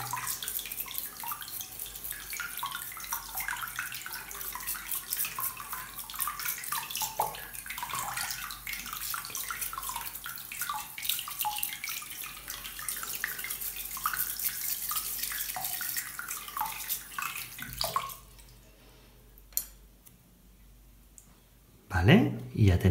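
Tap water runs steadily while an electric shaver's blade cover is rinsed, a continuous close splashing stream that stops near the end, followed by a few clicks and handling noises.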